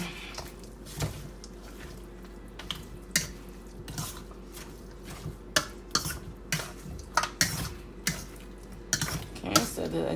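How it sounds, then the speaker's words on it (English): Seasoned brown stew oxtail with green bell pepper being stirred in a pot: repeated sharp clinks and scrapes of a utensil against the metal, coming in an uneven rhythm, close and distinct. "Okay, so just gonna give that a mix."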